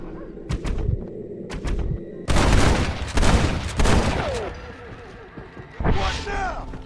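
Bursts of gunfire in Red Dead Redemption, with sharp shots in the opening seconds and then a long, dense volley of rapid fire. The shooting is loud and close and runs among in-game voices and a busy action mix.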